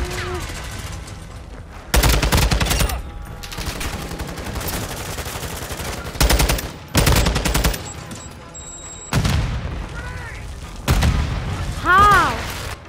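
Call of Duty MW match with loud bursts of automatic gunfire and booming grenade explosions, several sharp blasts spaced across the stretch over continuous game sound.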